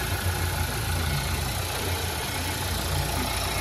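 A relatively new Volkswagen group engine with an air leak fault idles higher than normal and hunts, a steady close mechanical hum with a slight uneven pulsing, heard alone.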